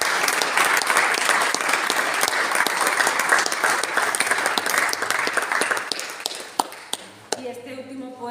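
Sustained applause from an audience at a writers' gathering after a poetry reading, dense and steady for several seconds and then thinning into scattered claps as it dies away.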